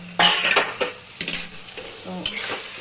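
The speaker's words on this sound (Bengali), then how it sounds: "এখন আমি ঢাকাটা তুলব।" A lid comes off a pot of spicy prawn and potato curry on a low gas flame, with several sharp metallic clanks and scrapes over a soft background sizzle.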